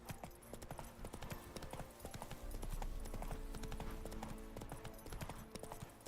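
Roach, a horse summoned in a Witcher video game, trotting with a steady, fairly quick clip-clop of hooves, soft and close, carrying on without a break.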